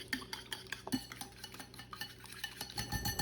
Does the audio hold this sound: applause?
no